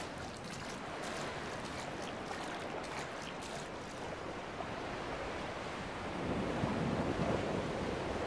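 Sea waves roll on the shore in the video game Dear Esther, a steady, broad wash of surf with wind that swells louder toward the end, with no voices.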